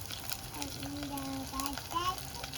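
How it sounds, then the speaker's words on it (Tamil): Onions and green chillies sautéing in a pan for a drumstick curry, a soft steady sizzle with light stirring, heard under a person talking throughout. "பச்சை மிளகாயம் போட்டாச்சு, வெங்காயம் போட்டு அப்படியே வதக்குவோம்"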